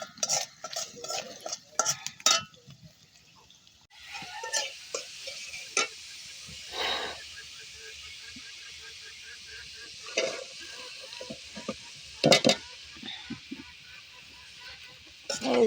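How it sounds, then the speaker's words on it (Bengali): Mixed greens with potato and dried fish stirring and frying in a pan, giving a soft continuous sizzle under repeated utensil clinks and scrapes, with brief speech and an occasional background fowl call. "এটি পুঁই শাক দিয়া আলু দিয়া শুটকি দিয়া পাক করবো"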